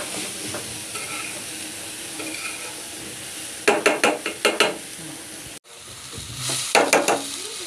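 Patishapta pitha filling fries in a pan with a steady, close sizzle, broken by a run of quick scraping stirs, a brief cutout, then more stirring strokes.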